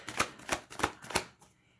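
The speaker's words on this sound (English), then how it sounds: "All right, I'm just gonna try to shuffle a little bit." Tarot cards riffled in four quick bursts about a third of a second apart, close and crisp, then trailing off into quiet with no talking.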